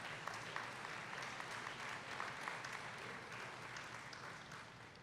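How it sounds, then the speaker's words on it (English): An audience at a high school senior athletic banquet claps steadily in a sustained, even round of applause with no talking, heard from within the room at moderate loudness. "So a big round of applause for Ben, Rustam, and Ryan."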